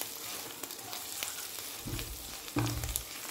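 Egg fry masala with garam masala sizzles softly in a pan, a quiet steady frying hiss with a few brief stirring scrapes.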